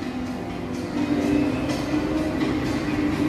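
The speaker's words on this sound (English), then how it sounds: "Kids train" Kids' train ride rolling through a shopping mall, a steady rumbling drone with a faint rhythmic clatter, continuous and moderately near, with no talk over it.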